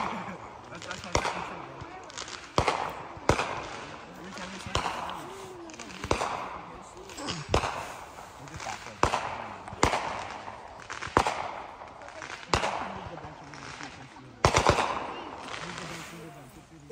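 Fireworks burst repeatedly in a fairly regular rhythm at a camp in Steep Rock, sharp bangs echoing with crackling tails, while people talk and react in the background.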